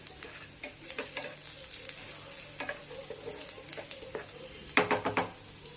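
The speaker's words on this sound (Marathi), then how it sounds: "कांदा अजून मी 2 ते 3 मिनिटं चांगला परतून घेते" Chopped onion sautéing in a pan for a lentil amti: a steady, quiet sizzle with intermittent stirring scrapes, and a short burst of utensil clatter near the end.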